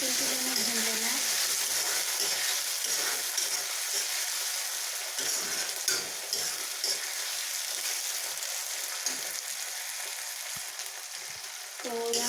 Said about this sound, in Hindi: अब इसमें हम डाल देंगे टमाटर को भी 1 सेकेंड के लिए हमें भून लेना है।